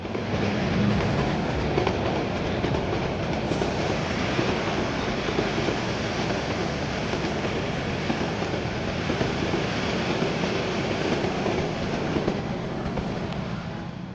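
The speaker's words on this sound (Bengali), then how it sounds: "বর্তমানে এই ট্রেনটি সদ্য কোরিয়া থেকে আমদানিকৃত কোরিয়ান কোচ নিয়ে চলাচল করছে" A Bangladesh Railway intercity train running with new Korean-imported meter gauge coaches produces a steady, unbroken roar of motion at constant loudness, with no voices.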